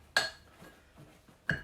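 Nuts are mixed into dry biscotti mix in a bowl with a few sharp clinks of utensil against the bowl, one at the start and two at the end, with soft stirring between.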